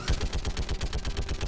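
Sustained automatic gunfire in the shooter game Mass Effect, a loud, evenly spaced stream of punchy shots filling the whole moment without pause.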